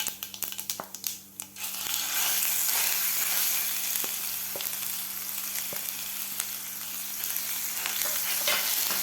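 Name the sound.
masala frying in oil with cumin and mustard seeds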